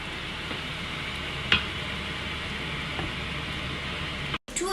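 Shrimp fried rice is stirred in a sizzling frying pan, giving a steady close hiss of frying with a faint scrape, briefly cut off near the end.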